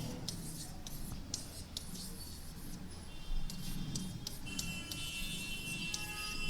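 Marker or chalk scratches across a classroom board in short repeated strokes, faint and close, over a steady background hum with no clear talking.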